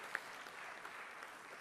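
An audience applauds at a smart cities cooperation talk, a steady, fairly faint wash of clapping with no voices over it.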